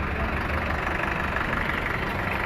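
A steady, low engine rumble of a 1994 Swaraj 735 FE tractor idling continuously, with a broad, even noise and no change in pace or loudness.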